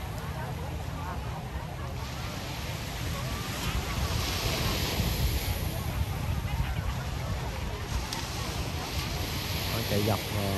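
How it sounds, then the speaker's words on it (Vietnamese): Gentle morning sea waves washing steadily at Nha Trang beach on a calm day, a continuous soft surf wash with light wind noise on the microphone, no talking. "Biển sóng khá là nhẹ vậy."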